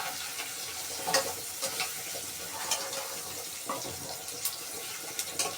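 Frozen vegetables sauté in a pot for a vegetable soup, giving a steady wet sizzle broken by repeated clinks and scrapes of stirring.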